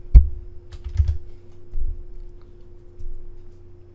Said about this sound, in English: type 0 and press Enter